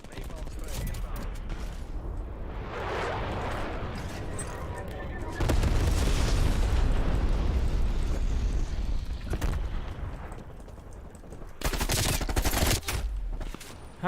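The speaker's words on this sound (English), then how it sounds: "See the napalm spray inbound." Napalm strike in Call of Duty Cold War, a dense rolling roar of explosions and bursts of gunfire that swells midway and stays loud, with a burst of crackling near the end.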